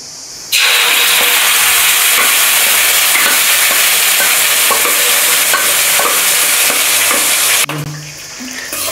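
Mashed cooked dal frying in a kadai with a steady close sizzle and hiss, punctuated by regular scraping stir strokes, with no talk.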